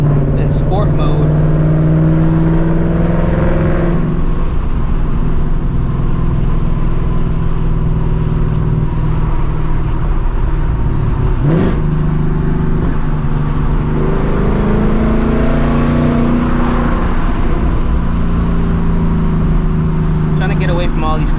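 A straight-piped S650 Mustang GT engine revs hard from the driver's seat, its exhaust snarling and droning loudly as it climbs and falls through repeated pulls, with a voice speaking briefly over it.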